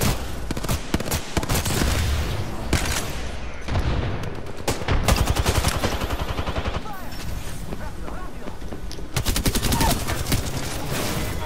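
Bursts of close, loud automatic gunfire in the video game Apex Legends crackle in repeated volleys with brief gaps between them, while a player talks over the shooting.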